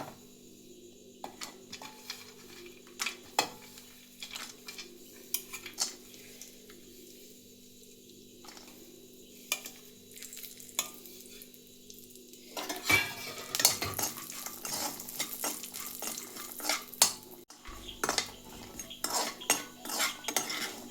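Cashews, raisins and almonds are stirred in ghee in a metal pan, giving repeated light clinks and scrapes of a spoon, with a louder, busier sizzling rustle in the later half.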